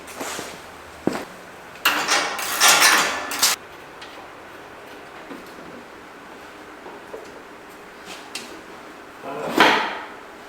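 Bolts come off a John Deere 6125R tractor during an oil change, heard as scattered metallic clanks and clicks with longer scraping rattles at close range and no talking.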